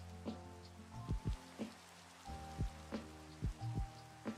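Rain falls in Minecraft as a soft, steady patter of drops with scattered heavier taps, quiet and alone.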